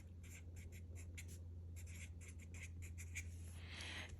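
A pen scratches out a word on a page of a paper debt tracker, a quick series of faint, soft scribbling strokes in short bursts over a steady low hum.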